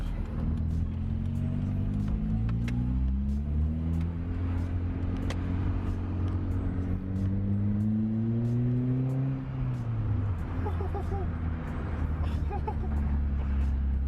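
A Ford Fiesta Zetec S engine drones and climbs through several gear changes, its pitch rising, then dropping and settling into a steady rumble; loud and continuous.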